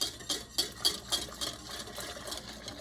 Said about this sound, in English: now we're going to add the hot juice to this mixture and stir it